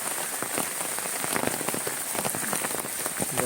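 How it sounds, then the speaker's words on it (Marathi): Heavy rain pours down steadily, a dense close-up patter of drops drumming on a surface with no voices. "पाऊस एवढा जोरात आहे की बघायलाच नको"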